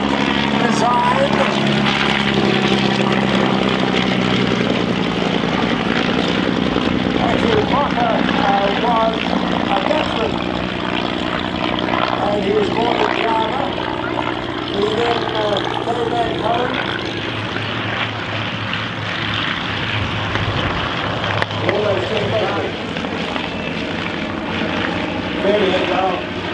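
Vintage German propeller aircraft fly overhead, a loud, sustained engine drone that rises and fades over the whole stretch while a voice talks over it.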